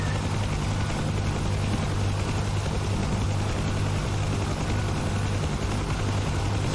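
A Huey helicopter in the DCS flight sim churns with a loud, constant rotor thump and engine drone, steady and close with no pause.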